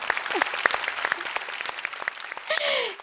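Studio audience applauding singers, a dense burst of clapping heard close and fairly loud throughout, ending in a brief tonal sound.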